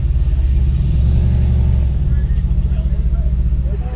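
Mercedes car backing slowly into a parking spot at a Shell gas station, a steady close low engine rumble with a slight pulsing throb throughout, and someone talking over it.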